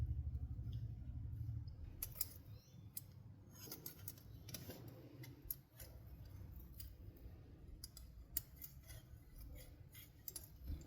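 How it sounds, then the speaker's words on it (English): Small scissors snip repeatedly in soft, irregular clicks while trimming moss for a closed glass terrarium, close and quiet, with no talking. "I trimmed the moss to fit neatly against the back"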